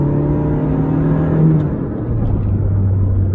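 Supercharged 1988 Toyota AW11 MR2 engine pulling under acceleration, a steady close whirring drone that climbs in pitch and then settles into a lower hum, heard from inside the car with no talk.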